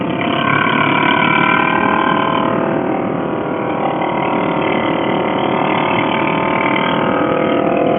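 Steady motorcycle engine drone on a ride up Blood Mountain, a continuous close rumble held at an even pace without revving hard, with no talking over it.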